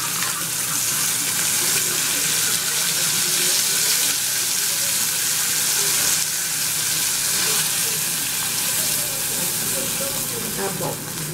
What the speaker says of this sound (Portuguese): Coloco, abaixo o fogo e coloco o molho.